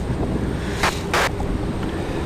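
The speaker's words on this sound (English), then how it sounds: "You can hear the wind picking up on me right now." Outdoor wind rumbles at Raleigh-Durham International Airport, a low steady buffeting on the microphone broken by two short, louder gusts.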